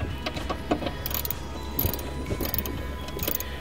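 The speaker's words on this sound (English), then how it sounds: "using the 10 millimeter socket and a ratchet" A ratchet turns a 10 mm socket on the power window regulator of a 2000–2006 Nissan Sentra, producing a steady run of close, quick clicking pawl ticks over a low background hum, with no one talking.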